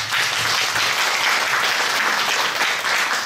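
A theater audience at a Yue opera exchange performance breaks into loud, dense applause welcoming a county representative onto the stage to present awards, a continuous wash of clapping with no pauses.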